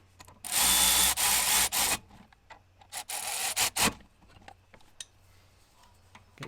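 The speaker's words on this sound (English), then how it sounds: "We'll nip them up and then whiz them up with a ratchet" A ratchet whirs quickly as it runs home the caliper bracket bolts on a Toyota Auris rear brake. Two loud, rasping bursts come close by, the second shorter, with quiet clicks and handling noises between them.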